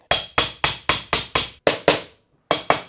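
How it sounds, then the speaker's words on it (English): Sharp metallic hammer strikes on a TM144 engine's bottom end ring out in a steady series of seven, a short pause, then two more, each blow leaving a bright decaying ring. "I'm deliberately using a metal hammer because I wanted the vibration."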